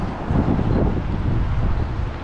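Wind buffets a microphone outdoors in Moscow's city district as a steady, loud roar that holds for the whole stretch with no pauses.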